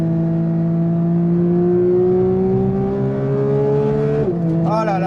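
A Porsche 992 GT3 Touring flat-six engine revs loud and close, its pitch climbing steadily to around 6500 rpm before dropping sharply on a shift, followed by a brief warbling as revs recover.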